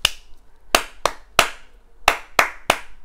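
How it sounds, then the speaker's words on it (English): Seven sharp hand claps in an uneven rhythmic pattern, loud and close with short pauses between groups, no other sounds. "you can just make a pattern with clapping"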